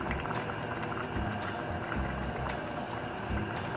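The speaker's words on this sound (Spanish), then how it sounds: "Mezclamos y dejamos que se cocine bien la salsa." Tomato-style sauce for spinach and chicken capelletti simmering in a pan, giving a steady dense bubbling and sizzling with small pops throughout, close and fairly loud, with no talk.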